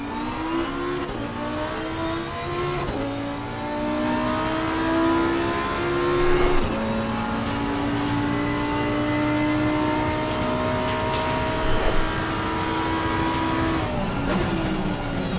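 A GT2 race car engine in the racing game Assetto Corsa Competizione, loud and close, rising through the revs in repeated pulls with sharp drops at each gear change and brief crackles on the overrun.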